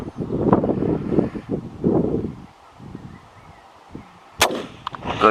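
A single sharp rifle shot cracks out during a windy hunt, a loud broadband burst near the end, preceded by gusting wind noise and a few fainter thumps.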